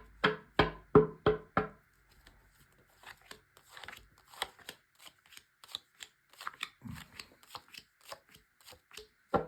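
Tarot cards being shuffled by hand in a quick run of crisp riffling flicks up close, then a looser, softer stretch of scattered card taps and slides.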